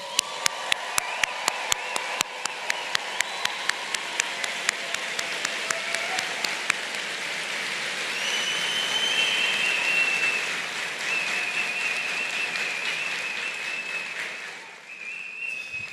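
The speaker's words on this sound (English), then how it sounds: "let's give our May 2024 graduates another round of applause" Sustained crowd applause for May 2024 graduates at an NC State mechanical and aerospace engineering commencement in an arena, opening with loud sharp claps and settling into a steady wash of clapping and cheering that fades near the end.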